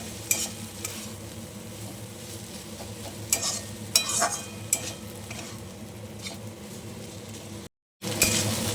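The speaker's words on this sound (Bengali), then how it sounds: "বেশ কিছুক্ষণ নাড়াচাড়া করে নিয়েছি" A bean curry is stir-fried in a pan, with a continuous close sizzle broken by sharp scrapes and clinks of the spatula against metal, then a brief gap of silence before the frying resumes.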